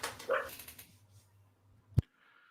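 A dog makes a few short, close yelping or whining noises at the start, then falls quiet except for a low hum and one sharp knock near the end.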